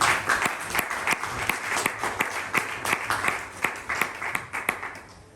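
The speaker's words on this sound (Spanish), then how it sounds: "le dé un fuerte aplauso al Señor" A church congregation at a Spanish-language evangelical service bursts into sustained, lively applause, a dense crackle of many hands clapping that swells and dips steadily without any talking.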